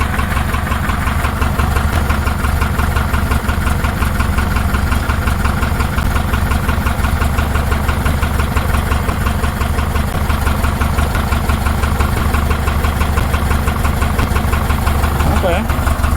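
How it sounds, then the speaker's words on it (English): A 1966 Porsche 912 flat-four with rebuilt carburetors idles steadily, giving a close, even, continuous rumble with a fine rhythmic pulse throughout and no break. "It's running pretty good with no adjustments other than throttle."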